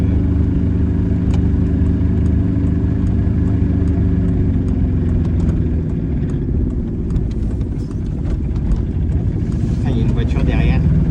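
A car engine runs loud and steady while driving through a residential area, a continuous low rumble with road noise and scattered clicks, its drone filling the scene without pause.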